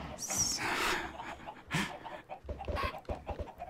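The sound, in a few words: chickens clucking in Minecraft video game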